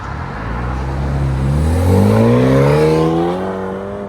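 A 2021 BMW M430i with a 2.0L turbo and straight pipes pulls away, its exhaust note rising steadily through the revs, close and loud, then easing off as it drives off.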